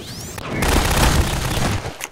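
Rocket launcher fire during a Half-Life 2 Deathmatch match: a sharp launch followed by a loud, sustained blast rumble lasting over a second, then fading, with a faint voice nearby.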